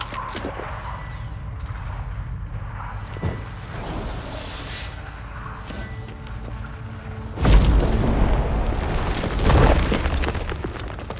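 Stalagmites blown apart in The Witcher 3: Wild Hunt, a low rumbling boom rolling under a steady dark drone, then two heavier crashing bursts near the end, loud and close with no talk.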